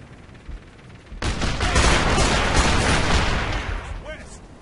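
Sustained burst of gunfire in the video game Operation Flashpoint: Dragon Rising, a dense rattling fusillade that erupts suddenly after a quieter lead-in and continues loudly for about three seconds before fading, with a voice briefly heard near the end.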